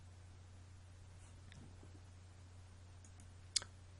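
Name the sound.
computer mouse click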